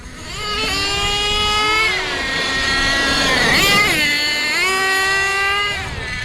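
An Associated Monster MGT RC monster truck powered by a Team Orion WASP 26 nitro engine runs nearby, its high buzzing whine climbing and dropping through repeated revs, loud and continuous.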